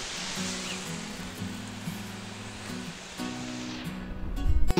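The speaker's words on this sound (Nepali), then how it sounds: "कलकल आवाज खोलाको सुन्दछु" A mountain river babbles along a Nepali trekking trail, a steady broad rush of flowing water heard close and continuous, with faint tonal hum beneath and a louder rumble near the end.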